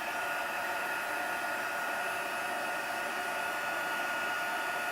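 Craft heat tool blowing steadily while heating a crafting project, a constant close whooshing hiss that stays even throughout, with no talking.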